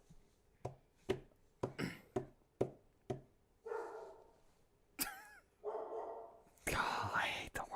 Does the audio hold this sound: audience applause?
no